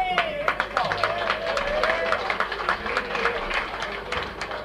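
Audience applause at a live 1964 club gig at Klooks Kleek, a dense burst of clapping and crowd noise with a voice speaking over it throughout.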